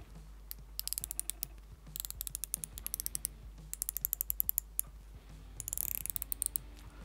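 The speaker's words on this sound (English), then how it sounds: "That's a nice sounding bezel, and there really is no playing there at all." The unidirectional bezel of a Spinnaker Boettger watch is rotated in bursts, each a quick run of sharp, close ratcheting clicks, with brief pauses between the turns.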